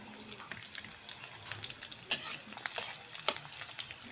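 Onions hit a pan with garlic for chicken tinola and sauté with a light crackling sizzle, punctuated by a couple of sharp clatters from a spatula, all close but quiet.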